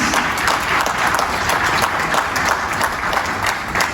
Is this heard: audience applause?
yes